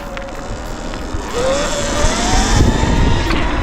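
Sur Ron electric dirt bike doing a power wheelie, a rising electric motor whine that climbs in pitch as it pulls away, mixed with tyre and chassis noise, loud and fairly close.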